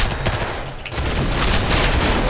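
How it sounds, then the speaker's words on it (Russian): Rapid Mauser gunfire in the Roblox game Arsenal, a dense run of loud, close shots that blur together into a continuous burst with no talk. "Маузер, моя любимая пушка, я обожаю маузер. Уничтожает всё с первого патрона."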